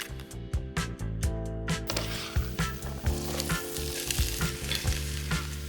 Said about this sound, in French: on va un peu faire revenir les aromates